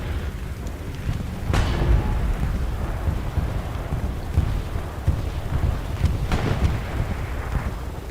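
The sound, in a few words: bombing run explosions in strategy video game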